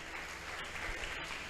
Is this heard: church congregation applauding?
yes